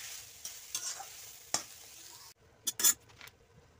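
Boiled leafy greens are stirred in a hot pan of oil, with scattered scrapes and soft clatters of a spoon over a light, quiet sizzle, ending in a few louder knocks.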